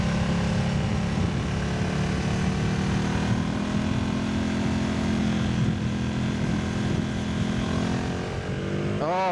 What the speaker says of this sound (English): Oh, this bike sounds so gnarly. It sounds so good, so good.